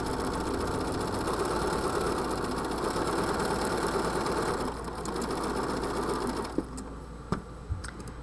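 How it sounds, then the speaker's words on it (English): A sewing machine stitches fabric strips in a steady fast whirring hum that slows and stops near the end, followed by a few soft clicks and no talk. "You can do this as fast as you are comfortable sewing."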